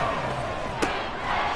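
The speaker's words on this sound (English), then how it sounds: "This crowd turning up the decibel level." Roaring stadium crowd noise from the American football video game Madden 24, Texans versus Jaguars, a steady dense wash of cheering that swells briefly with a sharp thud partway through.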